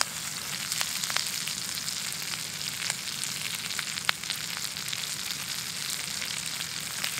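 Flounder frying in butter in a pan over a campfire by a creek: a steady, dense sizzle and crackle with occasional sharper pops, close and constant, with no voices.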